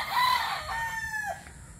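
A Boston Black brood stag rooster crows once, close and fairly loud, its call rising and then trailing off.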